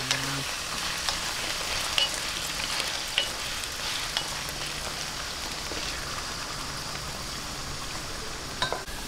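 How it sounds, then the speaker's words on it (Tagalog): Potatoes and carrots frying together in a pan for menudo, a steady dense sizzle that holds throughout, with a few faint utensil clinks and stirring scrapes over the crackle. "umpisahan po muna natin yung pagpiprito ng ating patatas at carrots"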